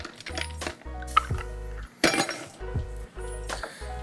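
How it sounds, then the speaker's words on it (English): Ice clinking into a glass while a Gin Collins cocktail is being built: a few bright, sharp clinks against a soft musical background, with one loud strike near the middle. "I'm just going to add a little bit more ice to my glass."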